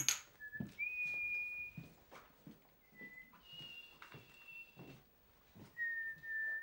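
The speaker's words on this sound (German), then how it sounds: "Jetzt hör auf zu pfeifen" Someone whistles a series of clear, sustained notes of varying pitch, with short pauses between them, over faint background noise.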